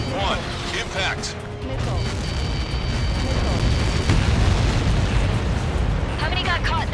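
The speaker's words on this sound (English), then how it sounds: "How many got caught in that explosion?" Missile explosion in the video game Ace Combat 7 Skies Unknown, with Helios projectiles launched from the Arsenal Bird striking, heard as a sustained loud rumbling boom with crackling debris, layered under radio chatter and game music.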